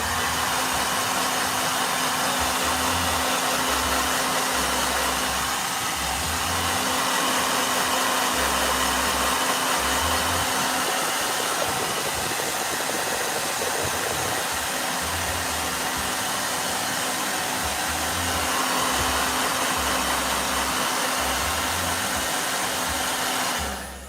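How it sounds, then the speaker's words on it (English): A blow dryer runs steadily and loudly near the microphone for the whole stretch, with a constant whirring hum and airy hiss that cut off at the end. "Yep. Blow dryer."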